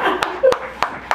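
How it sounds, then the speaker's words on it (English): Four sharp, evenly spaced claps from a comedy show audience in a tavern, each crisp and close, with a faint voice murmuring between them. "I need y'all to clap it up."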